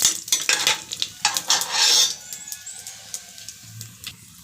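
Masala with cashew pieces is fried and stirred in a pan at home, a close run of metal-spoon scrapes and clinks over a light sizzle that fades into softer stirring.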